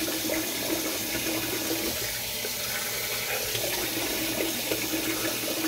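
Tap water runs steadily from a faucet into a sink while a Rockwell 6C safety razor is rinsed between shaving passes, a continuous close splashing hiss with no talking.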